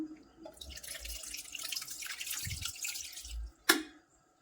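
Water is poured over tamarind in a kitchen to soak it. A fairly quiet, close splashing pour runs for about three seconds, ends with a sharp clink, then goes silent.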